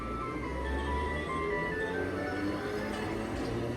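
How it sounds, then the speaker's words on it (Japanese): A minuet played as the departure melody at a Toyama tram stop under an elevated structure, a tinkling chime-like tune over steady low ambient rumble. "発着音楽はメネット。"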